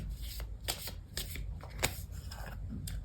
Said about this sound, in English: I'll also pull a couple of cards out for you.